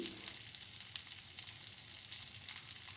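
Green beans stir-fry in a pan without water, giving a quiet, continuous crackling sizzle with small irregular pops, heard close and alone.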